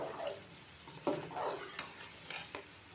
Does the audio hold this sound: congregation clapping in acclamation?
no